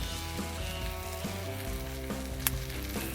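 Ground lamb, hamburger steak style, sizzles loudly in a pan, a close continuous crackling hiss with one sharp pop, without talk.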